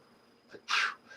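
A single short, sharp sneeze, close and fairly loud, preceded by a quick intake of breath and trailing into a faint exhale.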